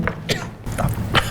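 A person coughs hard, as if coughing up blood, in three harsh, close bursts spaced across a second or so.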